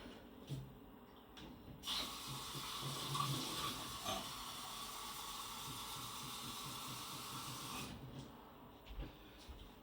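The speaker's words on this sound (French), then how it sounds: "je vais aller me faire un verre d'eau parce qu'il fait chaud" A kitchen tap runs steadily for about six seconds while a glass is filled with water, with a soft hiss and a gentle gurgle that starts and stops abruptly, close and fairly quiet.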